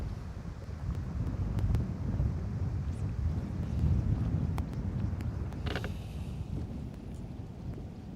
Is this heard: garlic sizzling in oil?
no